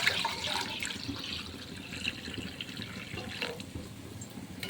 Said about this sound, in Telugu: లోటాన్నర వాటర్ పోద్దాం.